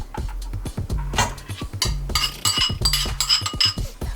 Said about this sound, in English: I like to use a rubber spatula to kind of incorporate the wet and dry together